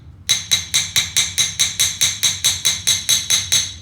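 Hammer striking sheet metal in a rapid, even series of about fourteen sharp, ringing metallic blows, loud and close, with no talk.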